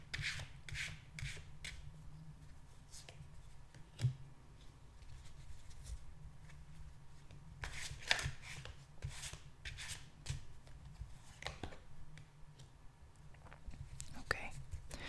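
Tarot cards being shuffled close up, repeated soft riffling and rubbing bursts at an uneven pace, quiet, with a voice whispering.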